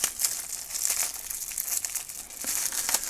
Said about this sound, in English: Let me just cut some of this bubble wrap so we can get him out